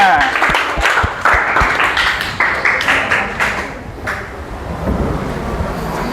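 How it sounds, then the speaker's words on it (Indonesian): Students in a classroom clap for a classmate, a burst of close, fairly loud hand claps that thins into a few scattered claps and then fades, leaving quiet room noise and faint voices. "tepuk tangan dulu buat Arsya."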